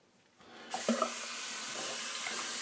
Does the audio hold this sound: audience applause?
no